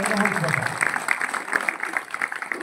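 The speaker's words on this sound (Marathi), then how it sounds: "या सर्वांसाठी एकदा जोरदार टाळ्या वाजवा" Audience applause breaks out during an outdoor Marathi political speech about farmers, a dense, steady patter of clapping from a crowd lasting a few seconds, with a voice briefly audible at the start.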